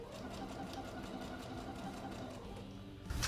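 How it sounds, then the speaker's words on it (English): A sewing machine stitches a shift dress along a folded edge in one continuous, even run, steady and moderately loud, with a brief clatter at the end. "I'm going to continue still sewing close to that folded edge"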